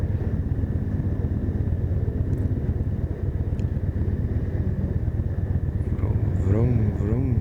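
A Yamaha Bolt motorcycle engine rumbling steadily and close as the bike rides off, with a rise near the end and faint voices and other sounds in the background.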